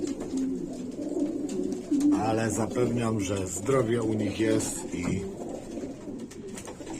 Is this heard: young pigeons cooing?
yes